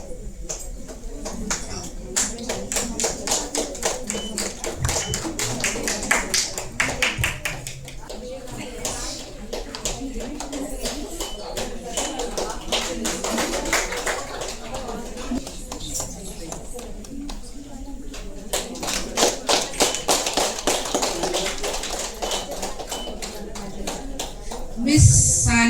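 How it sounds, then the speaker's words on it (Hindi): An audience at a Women's Day celebration claps in sustained bursts of applause, swelling and fading several times while a voice speaks over it. "जोरों शोरों से ताली बजाए गए प्लीज।"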